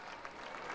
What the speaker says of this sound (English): Gets a round of applause from these Driller fans.